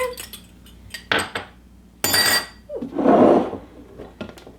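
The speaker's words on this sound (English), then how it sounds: "mix this dressing up together" Bowl and utensils clink and scrape in short bursts while a dressing of sesame oil and miso is stirred together, with a brief wetter swishing stretch in the middle.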